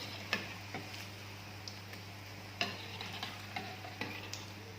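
Fritters sizzle in hot cooking oil, with a steady frying hiss, an underlying hum and sharp clicks and taps from utensils stirring the pan at irregular intervals, heard without talk.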